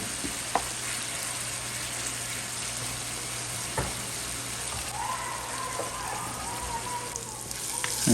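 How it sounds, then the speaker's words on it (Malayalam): Chicken pieces fry in oil in a pan over low flame, a steady hiss with a few sharp clicks and scrapes of stirring, moderately loud with a faint tonal hum beneath. "നമ്മൾ ചിക്കൻ ഫ്രൈ ഏകദേശം റെഡി ആയിരിക്കുന്നു അതിനെ നന്നായി ഇളക്കി കൊടുക്കുക"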